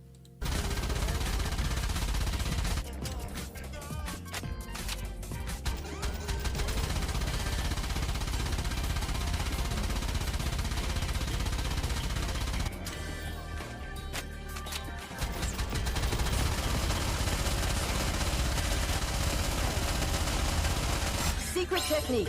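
Machine-gun fire from a ninja character in the game Nikke, sustained rapid bursts that fill most of the stretch with brief gaps, loud and close with talk beneath.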